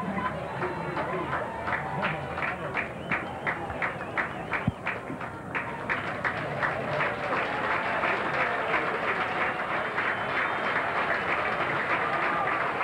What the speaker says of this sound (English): Here's the crowd helping get strike three across.